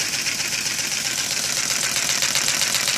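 Homemade LEGO LVE engine with a wet-dry vac hose attached, running steadily with a rapid, even mechanical pulsing and chatter, close and continuous with no talking.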